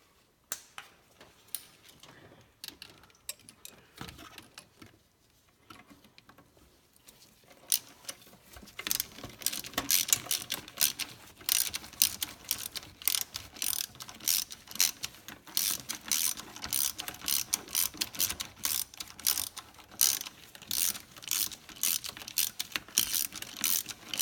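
A ratchet snugs down valve cover gasket bolts on a Ford Explorer engine, rapid clicking bursts that grow louder and more continuous after a quieter start, with no talking.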